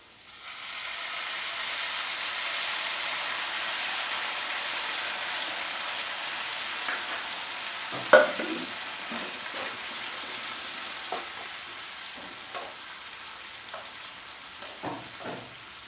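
Tamarind water poured over green chillies and onions in a hot pan sets off a swelling hiss of sizzling that slowly fades, followed by scattered scrapes and taps of a stirring spoon.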